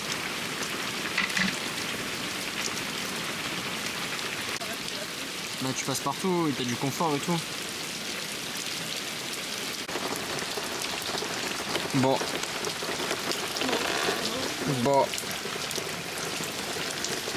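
Steady rain patters on a vehicle while driving behind a truck near Chefchaouen, Morocco, a continuous broadband hiss throughout with someone talking in French over it.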